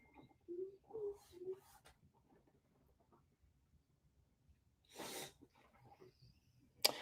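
A single sharp sneeze bursts out in an otherwise quiet room, preceded by a few soft nasal sounds and followed by a faint sniff.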